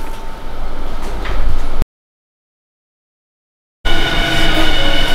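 A Hankyu train runs through Sojiji station. The rumble of the train and its carriages is loud and close. It breaks off in a silent gap and then comes back just as steady, with no talk over it.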